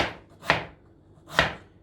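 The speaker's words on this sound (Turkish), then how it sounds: "Diğerlerini sen doğra." Potatoes for chips are chopped with a knife on a board, two sharp, close thuds about a second apart.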